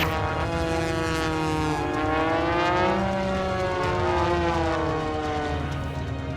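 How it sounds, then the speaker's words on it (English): Propeller airplanes fly a dueling wing-walking routine at an airshow, their engines roaring loudly and continuously with pitch sweeping up and down as they pass close by. "The dueling aircraft"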